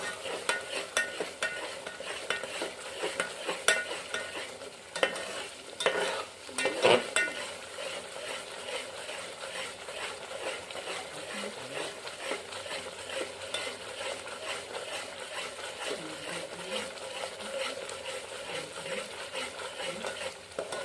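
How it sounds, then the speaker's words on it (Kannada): Chicken curry masala fries in a pan while being stirred continuously, a soft sizzle under repeated scraping strokes of a spoon against the pan, close and steady with one sharper clank early on. "ಅದೆಲ್ಲ ಚೆಂದ ಫ್ರೈ ಆಗಬೇಕ್ರಿ"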